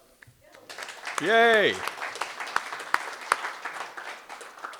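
Memorial audience clapping in a room, a steady patter of applause running under a brief cheer and overlapping chatter from people nearby.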